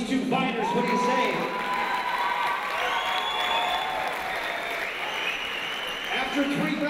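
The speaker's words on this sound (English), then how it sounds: "A round of applause for these two fighters." Applause and cheering from a boxing crowd after a three-round fight, a steady dense roar of clapping and voices lasting throughout, with an announcer's voice over it.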